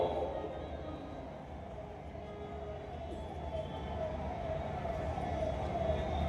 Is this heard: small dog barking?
no